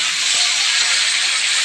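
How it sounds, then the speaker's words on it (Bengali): Onions frying until reddish brown in a pan make a close, continuous sizzling hiss that holds steady and loud for the whole moment, with no talking. "পেঁয়াজটা লাল লাল করে ভাজা হয়ে গেছে।"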